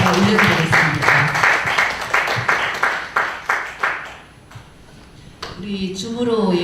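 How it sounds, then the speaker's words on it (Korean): A church congregation at a deaf ministry's anniversary service claps together in thanks, loud rhythmic clapping that thins into a few scattered claps and fades, then a voice speaks at the end. "하나님께 감사의 박수를 다 같이 한번 올려드리겠습니다."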